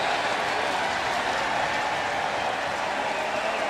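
Football crowd at Mosaic Stadium during a CFL game, a dense, continuous roar of cheering that stays loud and unbroken throughout.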